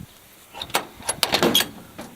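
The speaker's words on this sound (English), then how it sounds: "So I'll open up the door here." The door of an old farm truck being opened: a cluster of close clicks, latch clunks and metallic rattles over about a second and a half, with quiet room tone before and after.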